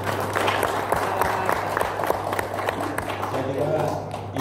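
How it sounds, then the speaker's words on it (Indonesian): Audience applause in a hall during a talk, a broad continuous patter of many hands with some voices mixed in underneath. "silakan aja tepuk tangan"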